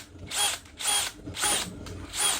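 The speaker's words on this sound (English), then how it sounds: "Right in the middle, we're going to drill a hole." Power drill boring a hole through the middle of a motorcycle part to mount a dual-camera bracket, in four close, loud whirring bursts with brief pauses between, no talking.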